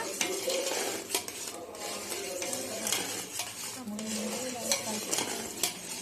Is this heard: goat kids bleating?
no